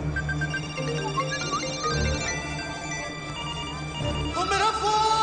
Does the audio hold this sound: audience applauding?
no